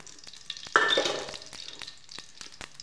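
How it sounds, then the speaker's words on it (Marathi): Mustard seeds drop into hot oil in a pan and burst into a loud, close crackling sizzle. It is followed by a fading spray of sharp pops and spits. "आता याच्यामध्ये मोहरी टाकून घ्यायची"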